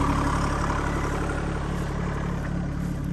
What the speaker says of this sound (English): Tractor is doing pretty good.